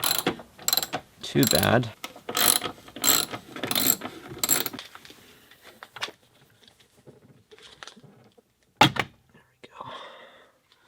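A hand ratchet clicks in quick bursts while loosening bolts on a car light housing, several close, crisp runs of ratcheting followed by a few isolated clicks, with brief talk in between.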